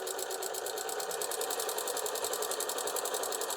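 A sewing machine runs steadily, top stitching straight across the top edge of an apron pocket, its rapid even needle rhythm humming quietly and continuously with no pauses.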